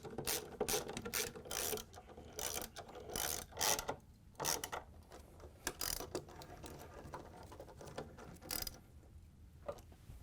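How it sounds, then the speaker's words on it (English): A ratchet with a 10mm socket on an extension drives bolts home on a Samsung washer during a spider arm replacement, giving repeated bursts of quick clicking with short pauses between strokes, close and clear. "we're going to grab our ratchet with the 10mm socket in the extension and put the"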